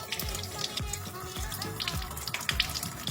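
Guavas being rinsed under running water, a steady splashing trickle with small repeated sloshes and drips as the fruit is handled, close and alone.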